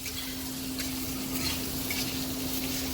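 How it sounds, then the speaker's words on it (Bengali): Potatoes stir-fried in hot oil in a village kitchen pan for a spiced potato and yardlong bean dish, giving a steady, continuous sizzle with soft crackles and a low background hum, close and even throughout. "এবারে আমাদের আলুটাকে কষিয়ে কষিয়ে বেশ খানিক করে রান্না করতে হবে"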